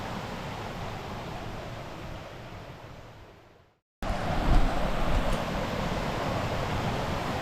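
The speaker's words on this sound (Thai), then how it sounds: "ตรงนี้คือ ลำธารนะครับ" A stream in Nakhon Nayok province flows near a waterfall parking area, giving a steady broadband rush of running water that breaks off briefly into silence and then returns at the same even level.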